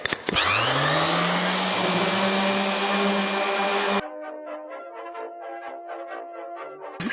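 A round sander fitted with 40-grit paper works over furniture, a loud steady whine for about four seconds that then drops to a quieter, rougher grinding, with no talking.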